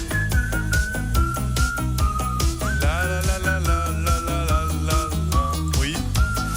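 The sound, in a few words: whistling in a song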